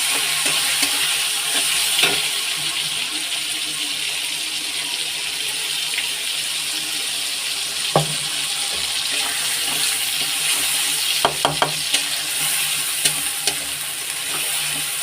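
Green peas fry in a pan under a constant close hiss and sizzle, while a spoon stirs with occasional scrapes and a few sharp taps against the pan, and no voices are heard.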